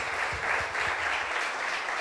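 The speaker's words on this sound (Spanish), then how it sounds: "Denle un aplauso fuerte a este Dios grande." A church congregation applauds during a Sunday sermon, a continuous wash of clapping from many hands heard at a moderate distance, steady and unbroken.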